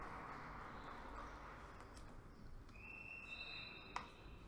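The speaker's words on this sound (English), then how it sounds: "We hear a whistle, but we're not sure what's going on." A referee's whistle sounds in a few faint, short blasts across a noisy gym during a school basketball game, heard amid crowd murmur.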